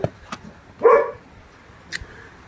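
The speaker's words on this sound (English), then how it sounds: "That is my dog." A dog barks once, fairly close, a short yelping bark standing alone against faint rain-like hiss, with a couple of soft clicks around it.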